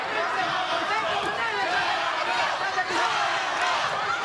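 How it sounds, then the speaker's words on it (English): A boxing arena crowd at a bout involving a Nicaraguan fighter roars continuously, a dense wash of cheering and shouting with a commentator talking over it. "The crowd trying to cheer on Alvarado."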